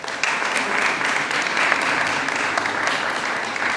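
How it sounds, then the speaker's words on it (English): Dense, steady applause fills a civic welcome event in Philadelphia for Namibia's president. The hall-wide clapping from the audience stays loud and even for about four seconds. "Can you please give them a round of applause?"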